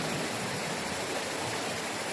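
Steady river water rushing past a Sahyadri hillside village, a dense continuous broadband wash with no pauses, close and fairly loud, with no voices over it.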